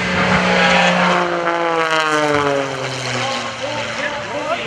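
Mike Wiskus's aerobatic propeller plane sweeps past at an airshow, a loud droning engine and prop roar with pitch sliding downward as it passes close by. No talking is heard.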